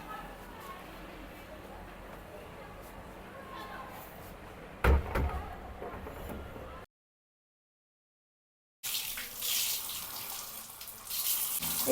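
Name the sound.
mop being washed under a running water tap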